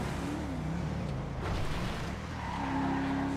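Car tires skidding around a corner in a video game, a sustained squeal with a rising engine note, fairly close and steady throughout, with no voices over it.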